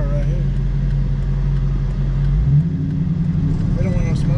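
A Chevrolet Camaro's engine rumbles close by with a steady low drone that shifts pitch midway, as someone talks over it.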